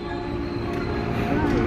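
A passenger train hauled by two locomotives rolls into Bogor station, a loud, close, sustained engine drone and rumble that builds slightly toward the end.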